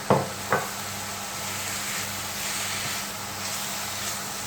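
Chopped capsicum and chillies hit a pan of frying chow mein vegetables with a steady sizzle and hiss, opening with two brief clatters as they drop in.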